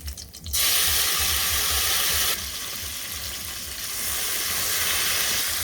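Cumin and fresh coriander leaves hit hot oil for a spiced pumpkin dish with a sudden loud sizzle burst, then a steady hiss that eases slightly and holds close and continuous.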